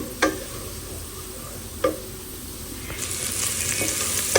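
Soft sizzling of ginger and garlic frying in oil, with a few sharp utensil clicks; the hiss grows brighter partway through.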